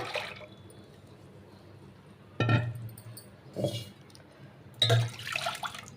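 Dissolved sorghum mixture poured into a pressure cooker, heard as a few short liquid splashes and glugs separated by pauses, close and moderately loud against a quiet kitchen background.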